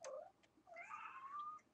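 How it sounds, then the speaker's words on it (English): A cat meows to be let in, a short cry followed by a longer rising, drawn-out meow, faint and somewhat distant in a quiet room. "A cat would like to come in."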